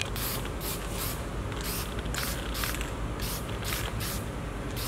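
Short bursts of spray from a gun lay a light coat of finish on spread-out parts of a Yamaha C7 grand piano, about eight evenly spaced hisses over a steady background hum, with no talking.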